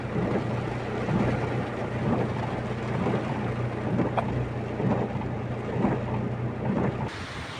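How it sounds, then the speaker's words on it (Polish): Steady rain hisses down without a break, with a low rumble underneath throughout. "Deszcz sobie pada"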